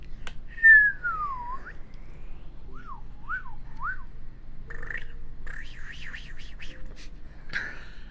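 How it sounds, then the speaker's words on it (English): A person whistles alone and softly: a long swooping note, several short rising-falling chirps, then a quick warbling trill and a final bright note. "I like to whistle, like just normally."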